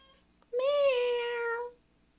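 A single drawn-out cat meow, about a second long, loud and close, sounds alone against near silence in the video game The Groom of Gallagher Mansion.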